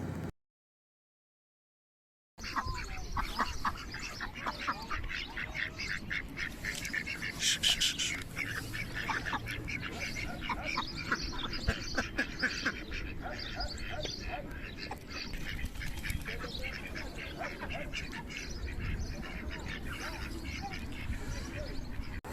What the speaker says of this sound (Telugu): చేపలే కాదు బాతులు కూడా గుంపులు గుంపులుగా తిరుగుతున్నాయి